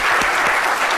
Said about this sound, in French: Ça s'acclame quand même